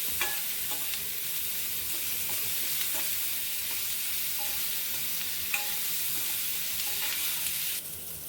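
Onions with ginger garlic paste sautéing over medium heat, a soft continuous sizzle with occasional faint stirring taps, fairly quiet and without talk.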